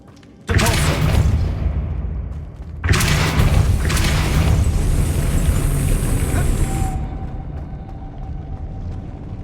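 Depulso spell cast in the video game Hogwarts Legacy: two loud whooshing bursts with deep booming thuds, the second trailing into a sustained hiss and fading shimmer.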